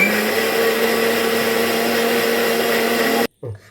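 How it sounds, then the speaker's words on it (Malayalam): A mixer jar blends a Choco Pie shake with rose milk and sugar, a loud, steady motor whir running unbroken for about three seconds before cutting off abruptly, followed by a brief faint clatter. "ഇനി നമുക്കിത് ജാറിലിട്ട് അടിക്കാട്ടെ"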